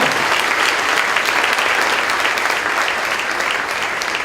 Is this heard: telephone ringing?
no